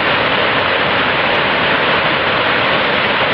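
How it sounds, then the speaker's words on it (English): A big waterfall on the Foothills Trail roars as a loud, continuous, even wash of rushing water, dense and unbroken throughout. "But it is a big waterfall."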